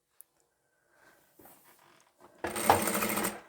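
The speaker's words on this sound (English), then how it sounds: "We'll start sewing about where that seam is." A sewing machine starts up partway through and stitches steadily along a seam of a fabric tube for a scarf scrunchie, running loud and close after a quiet stretch of small handling noises.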